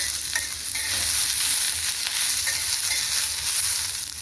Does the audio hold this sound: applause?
no